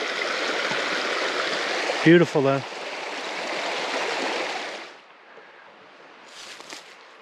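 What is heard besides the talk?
mountain stream water cascading downhill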